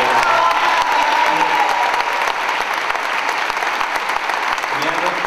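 Steady, dense applause from a crowd fills the whole stretch, loud and continuous with scattered cheers mixed in.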